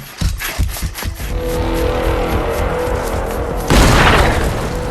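Several sharp booms and blasts of claymore mines hit in quick succession, followed by a rumbling roar and a second burst of noisy explosion near the end.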